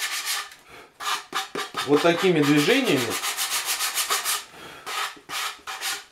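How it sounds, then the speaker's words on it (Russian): An angle grinder fitted with a sanding attachment rubs along the end edge of a wooden shelf in repeated rhythmic strokes, loud and close, while someone talks over it. "я зашкуриваю наш, так скажем, торец"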